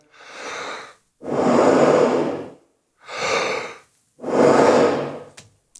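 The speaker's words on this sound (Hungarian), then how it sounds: "mi történik akkor, hogyha levegőt fújok a hangszerbe?" Air is blown into a brass instrument without the lips buzzing, giving four separate breathy rushes of airflow, each about a second long with short silences between, close and fairly loud, with no musical tone.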